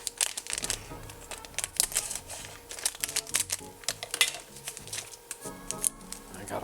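Scissors snipping through a crinkly plastic bag holding a Gikfun digital clock kit, a close run of sharp rustles and clicks with faint clinks in between.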